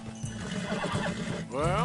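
A horse in the Western video game Red Dead Redemption 2 clip-clops along and then lets out a loud whinny, with someone speaking briefly over the hoofbeats.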